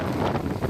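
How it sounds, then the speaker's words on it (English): Hurricane Dorian wind gusts battering the Bahamas coast, a loud, continuous roar of wind buffeting the microphone, brief and close, with no talk. "Those are the wind gusts that we have seen and that officials have warned about."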